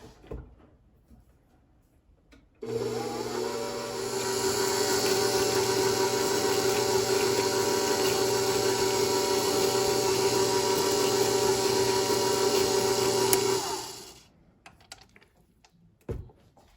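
An electric mixer whirs steadily for about eleven seconds as it blends cookie batter made with applesauce in place of egg, starting abruptly and winding down, with quiet gaps before and after.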